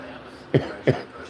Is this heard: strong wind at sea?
no